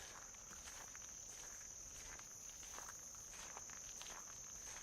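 Loud, continuous high-pitched insect chirping drones steadily outdoors on a nature walk in Massachusetts, with faint rustling and soft footsteps underneath.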